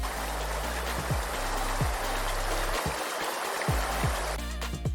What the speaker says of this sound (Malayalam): അങ്ങനെ പഴയ പോലെ നദിയിൽ വെള്ളം ഒഴുകാൻ തുടങ്ങി